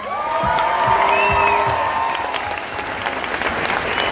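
Applause from a live concert audience in Thessaloniki, Greece fills the space with steady, loud clapping and light cheering, while a held musical tone rings underneath at the start and fades away.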